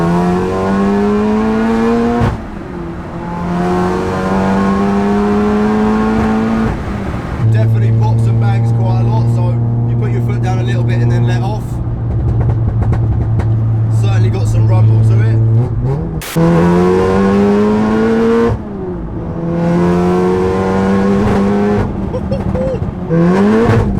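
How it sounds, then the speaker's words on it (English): A 700 HP VW Golf R engine in race mode, revving in several sharp blips and a longer sustained high rev, loud and close, with brief pauses between bursts. "give the car a couple of little blips as well so you can hear what she sounds like revving up"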